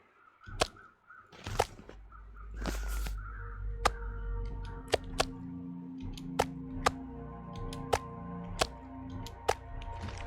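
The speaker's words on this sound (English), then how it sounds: "Hear them crows." Crows caw in the game The Long Dark, a few harsh calls near the start followed by sharp snapping cracks spaced through the rest, set over a low ambient rumble with no talk.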